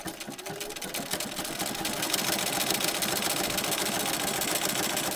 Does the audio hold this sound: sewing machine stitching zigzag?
yes